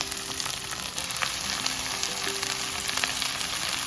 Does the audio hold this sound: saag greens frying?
yes